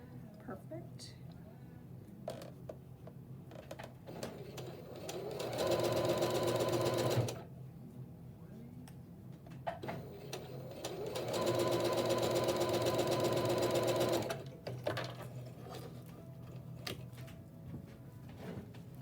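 A sewing machine stitches quilt block seams in two sustained, steady bursts of whirring, near and clear, separated by quieter handling noise while a person talks.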